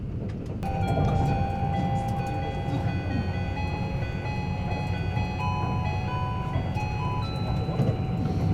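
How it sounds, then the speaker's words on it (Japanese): A Kintetsu Ise-Shima Liner train slows into a left curve, running steadily on the rails, with a dense rumble and a high, sustained wheel squeal ringing above it, continuous and fairly loud. "列車は速度を落として左カーブに入ります。"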